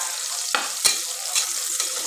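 Sliced onions sizzle steadily in a pan for a chicken curry, a bright continuous hiss broken by a few short stirring scrapes, close and fairly loud with no talking.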